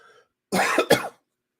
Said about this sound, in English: still got cough